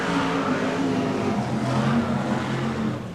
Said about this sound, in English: that number 17 car has got a bad misfire